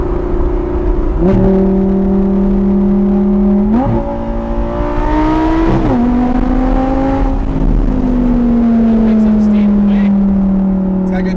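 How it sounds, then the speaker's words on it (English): Audi R8 V10 sports car engine revving up through rising gears, its exhaust note climbing and dropping repeatedly, loud and close with a steady drone underneath. "Exhaust sounds great."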